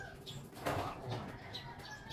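Pigeons flap their wings in a brief burst of flutter, fairly faint against an outdoor background, with no voices.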